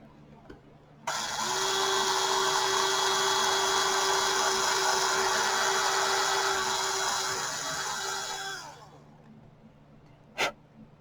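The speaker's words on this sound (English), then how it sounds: "I don't even know if you can see that hole that I drilled" A high-pitched tiny drill bit whines steadily for several seconds while drilling UV resin, close and loud, then cuts off, followed by a brief sharp click.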